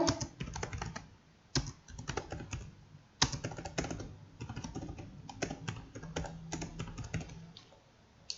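Someone types bank account details on a computer keyboard, producing quick irregular clusters of key clicks with short pauses between bursts, close and moderately quiet, with no speech.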